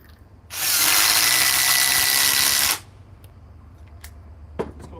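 A Ryobi power drill runs at full speed in a speed comparison, a loud, close high-pitched whir lasting about two seconds that cuts off abruptly, followed by a few faint clicks.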